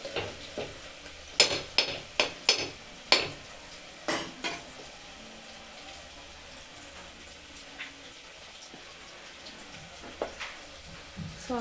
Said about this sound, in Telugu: సో ఆల్రెడీ క్లీన్ చేసుకున్న చికెన్ అనేది యాడ్ చేస్తున్నా.